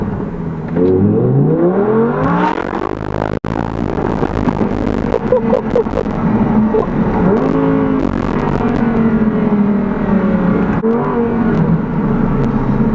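An Audi R8 V10 RWS, a rear-wheel-drive V10 supercar, launches hard from a standstill, its engine note climbing loudly through the rev range with a sharp gear change partway through and the pull continuing close by.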